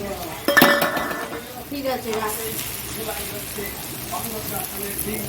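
Onion goes into a pan of frying potatoes, landing with a clatter of utensil against metal, after which a low, uneven sizzle and scraping stir carry on close by.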